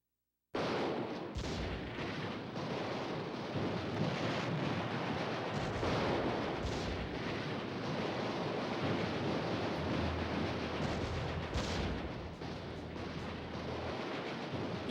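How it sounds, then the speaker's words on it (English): Artillery fire in the strategy video game Allied General, heavy booming rumbles layered over a continuous noisy roar that fills the whole stretch at steady loudness, with no talk. "I meant to use the artillery first"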